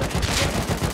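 Rapid automatic gunfire in the video game Rust during an online raid, a loud close burst of repeated shots in an even, fast rhythm filling the whole moment.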